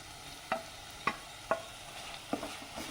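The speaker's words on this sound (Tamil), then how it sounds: "தக்காளி கொஞ்சம் நல்லா மசிகிற வரைக்கும் நம்ம இதை வணக்கிக்கலாம்" Chopped tomato sautéing with ginger and garlic for village-style mutton kothukari: soft frying hiss with about six sharp spatula scrapes against the pan, quiet and close.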